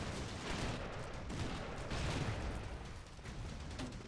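Rapid gunfire in the pixel-art action game Broforce, dense bursts of shots and small blasts in a continuous barrage, loud and close with no pauses.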